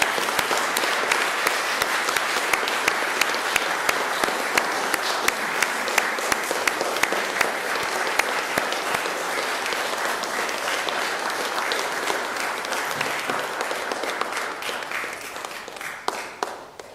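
An audience at an Eagle Scout Court of Honor applauds the new Eagle Scouts and their families, with steady, dense clapping from a standing crowd that holds for the whole stretch before tapering slightly at the end.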